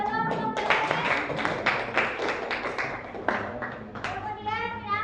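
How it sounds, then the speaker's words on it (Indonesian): Classroom group clapping in short bursts of claps amid children's chatter and a teacher's voice, moderately close and fairly quiet. "tepuk tangan buat kelompok BUMN"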